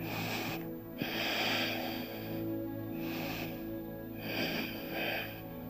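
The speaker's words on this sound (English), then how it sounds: "Nice, a couple of nice deep breaths here." A person in a revolved triangle yoga pose takes slow, deep breaths, with long airy inhales and exhales repeating close to the microphone over a steady background hum.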